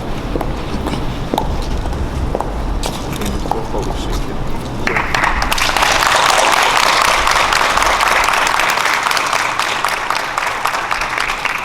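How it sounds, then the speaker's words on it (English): Applause builds at a ribbon-cutting ceremony as a crowd breaks into sustained clapping midway through. Talking and scattered movement come before it, and the clapping is loud and dense once it starts. "Give him one more hand clap"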